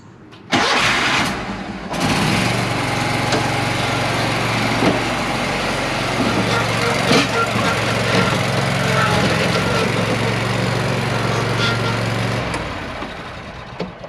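Scag Aerstorm blower with its engine cranking and catching, then running loud and steady with a rattly, clattering edge before winding down near the end.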